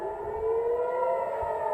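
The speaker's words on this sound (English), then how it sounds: "Warning sirens sounded as dozens flew in above us." Air raid warning sirens wail over Tel Aviv during a rocket barrage from Gaza, a steady, sustained rising-and-holding tone from a distance, alone without talk.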